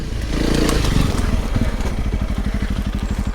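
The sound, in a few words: Honda CRF300 Rally motorcycle riding in second gear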